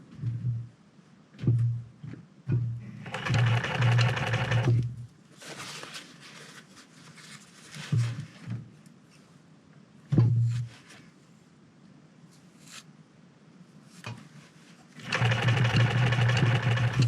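Sewing machine stitching a fur bomber hat, running in loud whirring bursts up close, separated by pauses filled with handling clicks and light bumps, ending on another sustained run.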